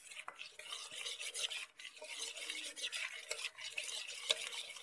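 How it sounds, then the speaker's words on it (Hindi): A spoon stirs a cornflour mixture in a cooking pot, giving a continuous scraping and swishing sound. It is close, fairly quiet, and has brief clinks against the pot. "साथ साथ उन्हें चमचा हिलाते रहना है ताकि इसमें लम्स ना बन जाए।"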